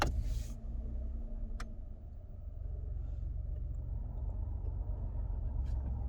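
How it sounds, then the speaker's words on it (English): A Ford Puma's engine turns over and settles into a low, steady idle rumble, with a couple of faint ticks over the running engine. "Engine start."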